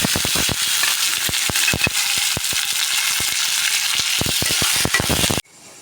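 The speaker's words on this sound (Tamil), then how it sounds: "இப்போ பூண்டு, கருவேப்பிலை எல்லாம் நல்லா வதங்கிடுச்சு" Garlic, red chillies and curry leaves frying in oil in a pan for Tamil chutney, a steady close sizzle broken by sharp crackles and pops throughout, cutting off abruptly near the end.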